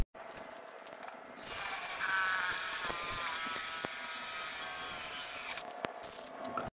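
A DeWalt hole saw cuts 2-inch holes in wood with a steady, loud grinding drone of about four seconds and a faint ratcheting texture, starting and stopping abruptly.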